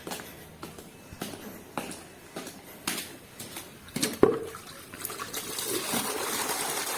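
Water goes into two buckets of comboran cattle feed mix. Scattered knocks and splashes give way to a steady gushing pour that builds toward the end, heard close with no speech.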